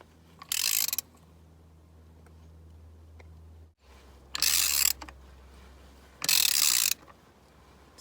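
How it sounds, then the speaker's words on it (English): A ratchet with a 19mm socket works the crank pulley bolt loose on an R53 Mini Cooper S, giving three loud, close bursts of rapid clicking separated by quiet pauses. "Next, set your ratchet up with a 19mm socket on it, and set it up like you're tightening it"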